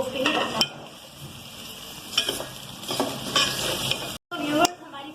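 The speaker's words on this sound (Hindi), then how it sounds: "ये हमने प्याज ऐड कर दिए। अब जब तक इनका कलर डार्क ब्राउन नहीं हो जाता तब तक हमें इनको स्टोव पे ही रखना है।" Chopped onions fry in a pan on a stove, a steady sizzle broken by several louder scraping stirs and a brief silent gap near the end, with no talking.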